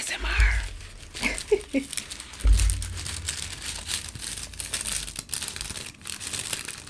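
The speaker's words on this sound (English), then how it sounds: "I'm just putting it back in the piece of paper." Sheet of paper crinkles and rustles as an item is rewrapped during a photography package unboxing, with several crisp bursts and softer handling noises, close and under occasional low talk.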